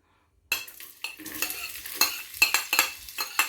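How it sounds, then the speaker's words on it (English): Onion and garlic sauté in olive oil in a Dutch pot. A spoon scrapes and stirs in repeated strokes over a steady sizzle that starts suddenly after a brief silence and stays close, with no talk. "So you just want to saute the onions and garlic just till they're translucent."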